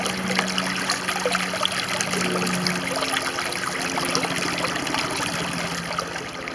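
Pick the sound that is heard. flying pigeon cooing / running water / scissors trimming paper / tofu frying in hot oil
running water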